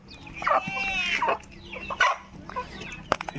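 A chicken clucks several times at close range, in short rising calls with brief gaps between them, with a faint voice and outdoor noise behind it.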